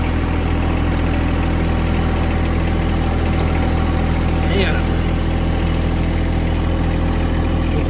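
A vehicle engine idles loud and steady close by as it is shifted into low four-wheel drive at a tree-cutting site, a constant low rumble throughout, with someone speaking over it.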